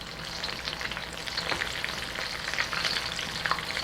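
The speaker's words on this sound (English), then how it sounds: "They are fried so fast, especially when your oil is getting fairly hot." Spring rolls frying in fairly hot oil, giving a steady close crackling sizzle with small pops scattered throughout, with no talking over it.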